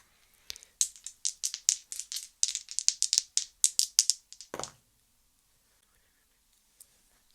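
Dice rattle and clatter through a run of quick, crisp clicks during a gamebook adventure, heard close and fairly quiet, then stop, leaving near silence with one faint tap.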